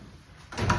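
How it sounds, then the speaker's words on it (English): A slow-close bathroom vanity drawer glides shut, a short soft slide rising into a muffled thud at the end, close and alone. "Slow closed drawers too."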